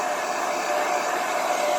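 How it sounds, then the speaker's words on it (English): A hair dryer on low heat blowing over poured acrylic paint: a steady, fairly loud whooshing hum with a faint whine, continuous and alone. "On low, hair dryer, you guys."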